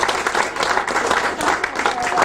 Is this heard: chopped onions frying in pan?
no